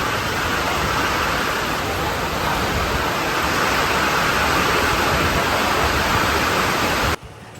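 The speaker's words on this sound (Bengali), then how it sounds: "আজকে বেশ মুষলধারে বৃষ্টি হচ্ছে, মানে হালকা ঝিরিঝিরি বৃষ্টি নয়।" Heavy rain pours down at a railway station as a dense, steady hiss that stays loud and unbroken. It drops off sharply just before the end.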